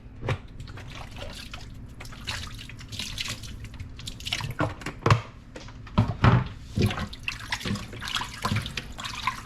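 Oxtail pieces are rinsed in water, with sloshing, dripping and splashing that comes in uneven bursts and grows livelier toward the end, close to the microphone.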